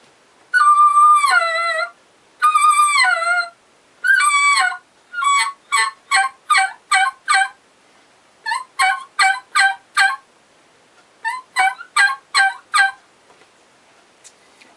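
A single-reed turkey call is worked in repeated two-note yelps. Long yelps come first, then quick rhythmic series of short, clear, close notes, with no talking.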